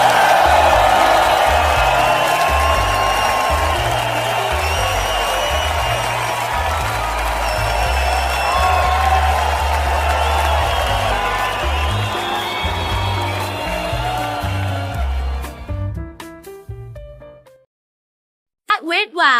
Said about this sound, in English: Let's give a round of applause for Misato Katsuragi at her campaigns today.